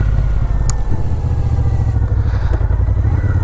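A 2010 Moto Guzzi V7 Cafe twin-cylinder motorcycle rides slowly in second gear around a parking lot. A loud, close, lumpy engine throb with a steady pulsing rhythm runs throughout.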